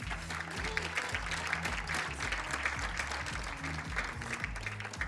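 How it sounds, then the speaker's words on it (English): Spectators at a 10m air pistol mixed team final in Wroclaw, Poland, applaud in a soft, distant, steady patter, with a low voice speaking over the clapping throughout. "Give them another round of applause."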